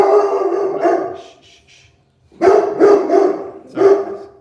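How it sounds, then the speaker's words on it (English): A dog named Bo barks in loud, angry bursts indoors, a run of deep, harsh barks followed by a brief pause and then another cluster of forceful barks and howl-like yelps. "Bo sounds like he's like a very angry dog"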